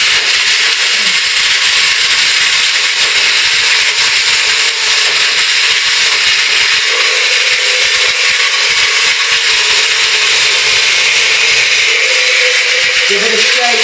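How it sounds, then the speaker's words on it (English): Blender grinding almonds for raw bliss balls, a loud, steady high-pitched whir running continuously from start to end, with a voice faintly under the motor. "you get a good blender that does grind up the almonds so you can get the nice consistency"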